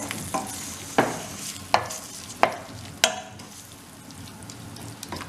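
Ground coriander and jeera powder fry in a pan for a curry, a soft continuous sizzle punctuated by about five sharp spoon knocks and stirs against the pan, then quieter frying alone.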